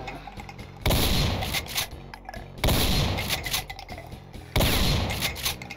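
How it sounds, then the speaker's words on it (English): Loud, punchy gunfire in the video game Doom as a player shoots at a hedge in a maze: three heavy blasts roughly every two seconds, each followed by a rumbling decay, with no voices. "I think that's just a hedge I'm shooting."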